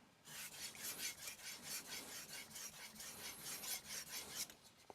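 A knife blade is drawn back and forth across a 3000-grit vitrified diamond whetstone, producing a rapid, regular rasping scrape of repeated close strokes, with no talking.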